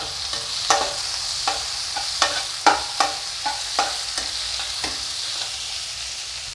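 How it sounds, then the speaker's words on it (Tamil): Onions and green chillies frying in a pan for masala paneer noodles, a constant close sizzle punctuated by a dozen or so sharp scrapes and taps as the mix is stirred with a spatula. "வெங்காயம் வதங்கிடுச்சு கூடவே பச்சை மிளகா இது தக்காளியும் சேர்த்துக்கலாம்"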